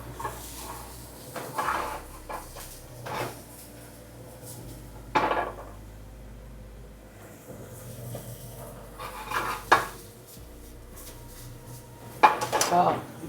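Beef and broccoli being stirred in a hot pan, with scattered clinks and scrapes of utensil against metal and soft sizzling underneath, the knocks loud at a few points.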